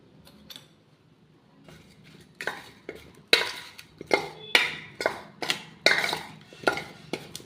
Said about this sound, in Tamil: இப்போ இதை நம்ம நல்லா மிக்ஸ் பண்ணிக்கலாம்.